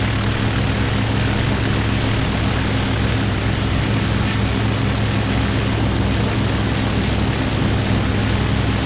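Propeller plane engine from the flight simulation game IL-2: Battle of Stalingrad, a loud, steady, continuous drone with a throbbing low rumble that holds unchanged throughout, with no talk.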